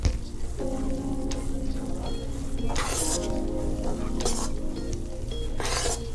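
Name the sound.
stirring kimchee noodles with sesame seeds in a pan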